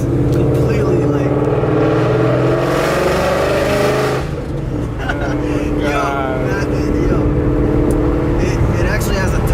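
Loud, close car exhaust with the resonators removed, droning and rising in a sustained rev with a deep tonal rasp, while people talk over it.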